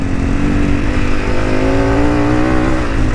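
A Honda CRF300 dirt bike with a Stage 4 setup revs hard in fourth gear, close and loud, its engine note steady and rising slightly throughout, alone with no voices.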